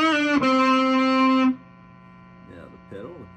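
Electric guitar through a Boss Katana amp on its brown channel with no pedal, a single loud overdriven note sustaining for about a second and a half, then a low amp hum with a brief soft voice underneath.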